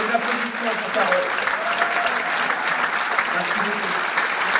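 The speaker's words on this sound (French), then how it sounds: "Des applaudissements pour Carole" Steady, dense applause from a comedy show audience fills the room throughout, loud and continuous with no break.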